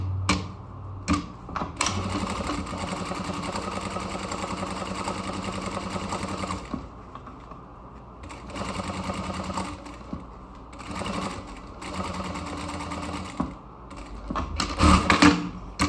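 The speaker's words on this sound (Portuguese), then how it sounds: "agora eu venho com a costura encostando o meu calcador nos dentinhos do" Sewing machine stitching a zipper onto a bag made of cotton tricoline fabric, presser foot running alongside the zipper teeth; steady close mechanical whirring in bursts that stop and restart, with brief pauses between runs.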